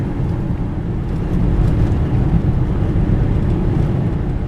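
An SUV rolls along a scenic dirt road through Grand Staircase-Escalante National Monument, a steady, loud low rumble of engine and tires on gravel with no pauses.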